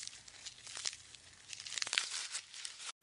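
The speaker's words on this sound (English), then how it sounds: "So do giraffes sound like eating leaves?" Giraffe chewing leaves as played by Google's animal sounds feature: repeated dry crunching and crinkling of foliage, irregular bites clustered in bursts, close and fairly quiet, cutting off abruptly at the end.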